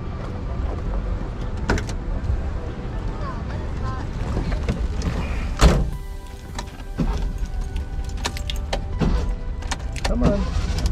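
A car is being moved at a Volkswagen meet in Cedar Park, Texas, its engine rumbling steadily at close range amid wind buffeting the microphone, with a few sharp knocks and clicks along the way.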